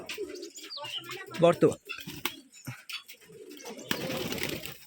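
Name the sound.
Rajshahi Giribaj pigeons cooing at a pigeon farm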